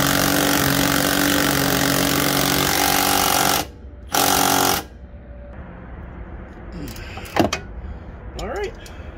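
An impact wrench tightening rear shock bolts on a Traverse/Acadia/Enclave, two loud hammering bursts with a short pause between, then quieter clinks of tools and metal close by.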